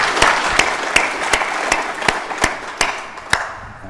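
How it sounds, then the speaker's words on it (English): An audience at a deer industry conference claps for a panel. The applause is moderate and fairly thin, with distinct individual claps ringing out over a soft wash of crowd noise, then tapering off. "a bit of a round of applause for the panel"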